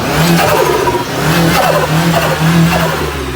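Close-up, loud revving from a Renault Megane with a turbo blanking plate. About four repeated throttle blips come in a steady rhythm, each followed by a raspy, fluttering turbo release. No one talks.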